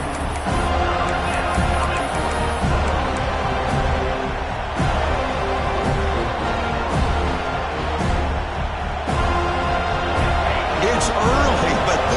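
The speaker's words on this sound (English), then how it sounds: "It's early, but this crowd is fired up. Listen to this noise here." Fired-up football stadium crowd, a dense continuous roar of many voices that holds steady throughout, with a commentator talking over it.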